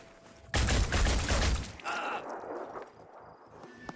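A sudden burst of rapid enemy return-fire gunshots in the video game Phoenix Point, loud and close for about a second, then fading into lighter mechanical clatter.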